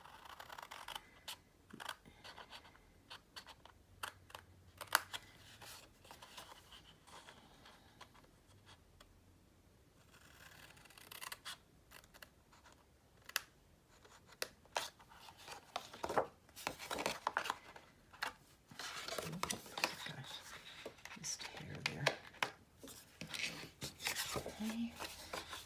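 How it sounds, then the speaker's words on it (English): Scissors or a craft blade cut a scored paper grid out of mini album pages, with scattered soft snips, rustles and paper handling clicks spread across a quiet tabletop session. "You want to cut that grid out, and it's not beveled or anything"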